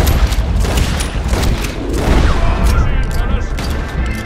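Gunfire in Red Dead Redemption 2, rapid loud shots and booms packed densely over a few seconds, with a voice speaking underneath.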